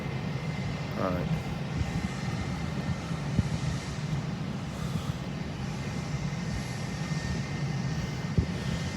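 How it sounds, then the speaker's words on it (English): Jet aircraft engines at an airport terminal give a steady, broad roar heard from a distance, continuous throughout, with a voice speaking over it. "Can you hear the jets?"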